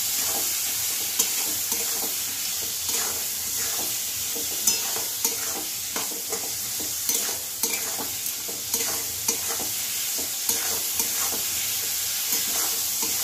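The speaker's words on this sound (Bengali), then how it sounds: "একটু নাড়বো।" Salt, sugar and turmeric are stirred in a hot pan, with a spatula scraping and knocking in quick repeated strokes over a continuous close sizzle.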